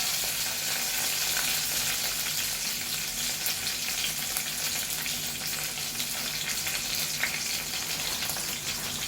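Small shallots and curry leaves sizzle in hot oil in a pan for a beef curry, a continuous close crackling hiss with occasional stirring, steady throughout and free of talk.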